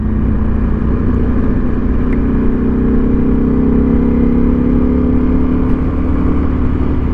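A Ducati V4S Speciale motorcycle being ridden, its engine a loud, steady mid-pitched drone with a smooth whir and road rumble throughout, no talking.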